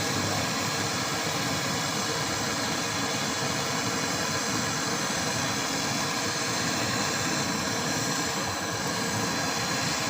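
A refrigerator compressor running during repair after a filter is welded in, a loud steady broadband roar and hum held evenly throughout without pause.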